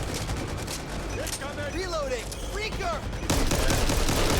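Minigun gunfire in the zombie shooter Back 4 Blood, a continuous roaring stream of rapid shots that grows heavier near the end, with a voice talking over it.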